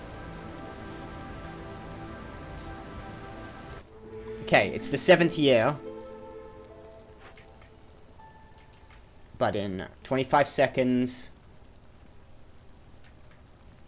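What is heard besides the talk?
storm rain in the video game Against the Storm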